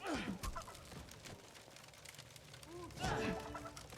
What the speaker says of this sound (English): Did I kick this chicken?